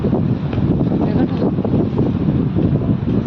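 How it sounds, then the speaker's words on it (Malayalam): Strong stormy wind buffets the microphone in a steady, loud low-frequency roar, gusting continuously throughout with no clear pauses. "കാറ്റടിച്ചു, കൊടുങ്കാറ്റടിച്ചു"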